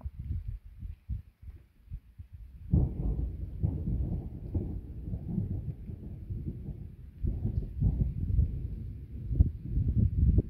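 Low rumbling thunder from a weak storm during a Cévennes-type episode, rolling in at moderate distance with uneven swells that fade and return, under faint wind noise.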